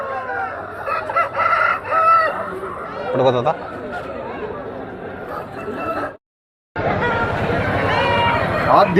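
A rooster crows loudly and close by, among clucking fowl and people chattering in the background, with a brief cut to silence partway through.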